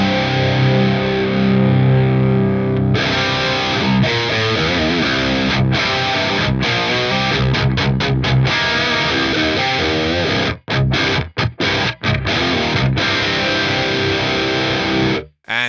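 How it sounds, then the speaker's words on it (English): Distorted electric guitar run through the pitch block of a Fractal Audio AX8 with detune, voices panned hard left and right: loud, thick sustained chords and riffs with a wide chorus-like shimmer, cutting to brief choppy stops near the end. "There's your massively girthy, wide stereo effect"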